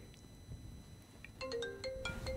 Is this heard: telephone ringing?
yes